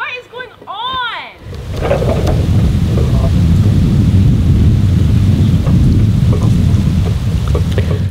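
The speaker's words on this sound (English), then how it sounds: "It's raining again?" Heavy rain pours steadily and loudly beside a floating houseboat cabin under construction, with a rumble of thunder near the start; a harmonic chirping tone precedes the downpour.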